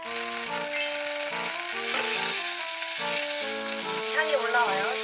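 Minced garlic sizzles in hot olive oil, a steady broadband frying hiss that grows louder after the first couple of seconds, with background music playing prominently over it throughout.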